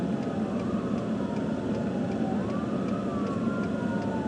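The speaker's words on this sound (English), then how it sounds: "And I hear a siren coming from somewhere." An emergency vehicle siren wails faintly in the distance, its pitch gliding up and down over steady traffic and engine rumble on a drive in Lexington, Kentucky.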